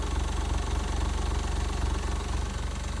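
A Smart car 451 engine idles with a suspected bad head gasket, a close, steady low-pitched rhythmic chug with even pulsing and no voices.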